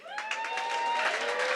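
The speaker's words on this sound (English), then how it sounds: "one thing I want you guys to give an extra little special applause" A crowd at a PechaKucha Night presentation event claps in a fairly soft, spread-out round, with a sustained tonal hum or whistle running underneath the applause.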